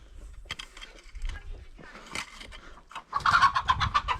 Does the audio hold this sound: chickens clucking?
yes